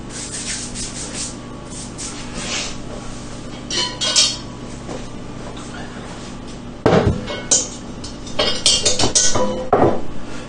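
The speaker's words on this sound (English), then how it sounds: "I'm going to put my dough in this Dutch oven." Sourdough dough lifted on parchment paper is set into a Dutch oven, with papery rustling and rubbing, a few metallic clinks of the pot, and a louder burst of crinkling and knocking toward the end, without talk.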